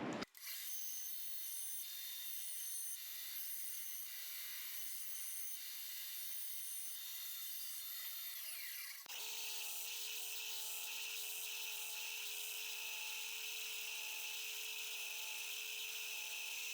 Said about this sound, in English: So let's go ahead and cut all this excess wood off.